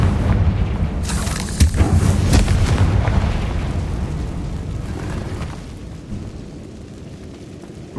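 A Confringo blasting spell explodes in Hogwarts Legacy on PS5: a loud, booming blast with crackling bursts that rolls on and slowly fades over several seconds.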